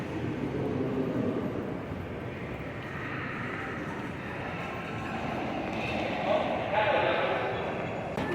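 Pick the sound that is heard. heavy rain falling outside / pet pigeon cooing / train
train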